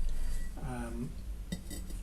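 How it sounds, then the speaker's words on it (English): Ceramic kiln stilts are set around pots inside an electric top-loader kiln, giving a few light clinks and a sharp click, close by, with a person talking briefly in the middle. "You have these stilts which are then put in around the pot"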